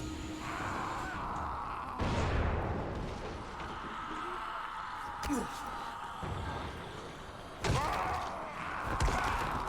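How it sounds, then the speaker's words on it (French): An explosion in the video game Dying Light booms twice as heavy thuds over a constant game soundscape, partly buried under a player's voice. "Oh, l'explosion, mon gars. J'étais pas prêt."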